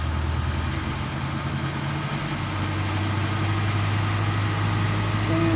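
A Mitsubishi Strada Triton engine is held at about 2,000 RPM while running hot. It gives a steady, close, low droning hum with a slight shift in pitch partway through.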